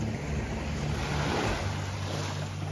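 Ocean surf washes onto Maho beach on the North Shore of St. John, a steady broad roar of breaking waves under strong wind buffeting the microphone, with no voices.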